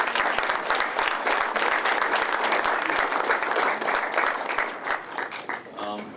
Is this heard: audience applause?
yes